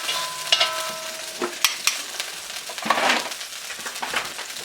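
Beef pieces for Beijing beef fry in a pan while being stirred, a steady sizzle broken by scraping and clacks of the utensil against the pan, close and moderately loud with no talking.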